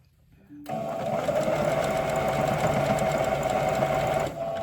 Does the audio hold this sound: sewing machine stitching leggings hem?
yes